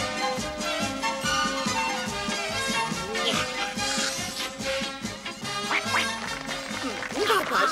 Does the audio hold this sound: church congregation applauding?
no